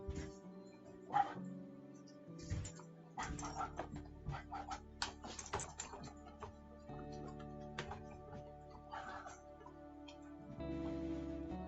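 A pet dog lets out several short, scattered barks and yips during playtime indoors, close by, mixed with people talking and household noise.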